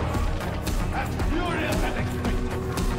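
A hostile dog attacks in the Warhammer 40,000 Darktide video game, barking and yelping amid a dense, noisy combat mix, with players talking over it.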